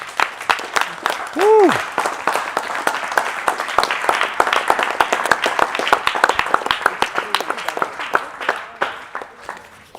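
A church congregation at a livestreamed service claps hands steadily for about ten seconds, a dense, lively patter close by, with a shouted cheer and brief voices over it.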